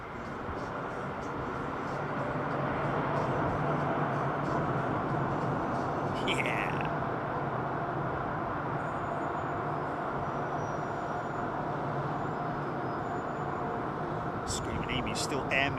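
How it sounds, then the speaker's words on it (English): An airliner landing at Heathrow with its thrust reversers deployed makes a broad, building roar that swells and holds steady, while a voice talks over it. "Now lay it on with the reversers."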